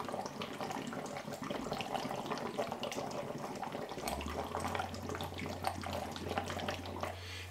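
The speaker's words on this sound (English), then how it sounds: "Exhale through the water, blowing bubbles." Someone exhaling through water as a breathing exercise, blowing a steady stream of bubbles that gurgle continuously and close by, with a low hum joining partway through; no talk.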